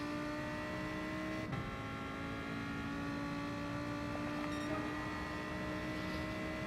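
Steady, loud engine drone from a racing car in a video game on the Dragon Trail Gardens circuit, holding high revs with a sustained tone and one brief shift-like blip, no talk over it.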